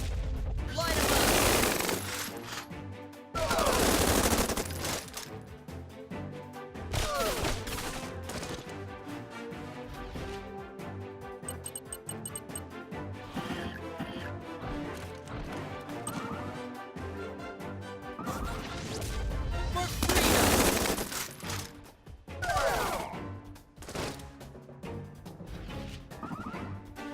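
Riflemen firing in the Tiny Metal strategy game, loud bursts of rapid gunfire and crashing impacts that recur across the stretch, set over a busy game soundtrack with occasional voiced unit lines.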